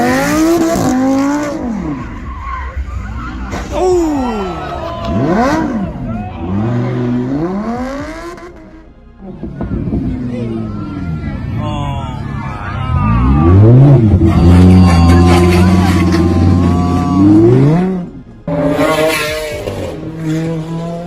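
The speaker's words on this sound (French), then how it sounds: "Une voiture roulant à vive allure" A supercar engine revs hard and roars past at speed in repeated surging sweeps, with whining gear changes and tyre noise, loud and close, ending in a short chaotic burst.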